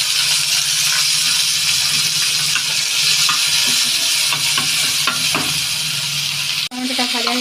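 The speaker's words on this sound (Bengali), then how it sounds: "এখানে সামান্য তেল দিয়েছি, টমেটো কোঁচানো আছে, এই যে এইটা আমি একটুখানি ভেজে নেব যাতে কাঁচা গন্ধটা চলে যায়।" Chopped tomatoes fry in a little oil in a pan, a loud, close, continuous sizzle broken by scraping stirs and a sharp clatter near the end.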